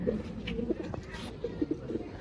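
A pigeon coos softly in repeated low, throaty notes close by, with faint background chatter and household noise around it.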